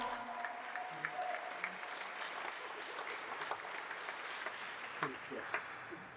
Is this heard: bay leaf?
no